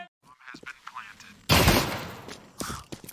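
A burst of dual pistol fire in Counter-Strike erupts loudly midway, with a few sharp shots around it, while a commentator talks excitedly over the action.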